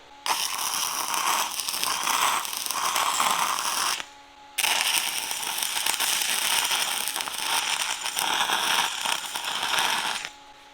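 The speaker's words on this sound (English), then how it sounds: "I'm going to add these other 2 tacks" Arc welding tack welds on 2-inch schedule 80 pipe with 6010 rod, a loud steady crackling buzz in two long bursts with a brief silent break between them.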